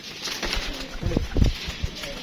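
Pigeons of a flying breed give low, throaty coos and a brief flutter of wings nearby, over steady background noise with a voice murmuring faintly.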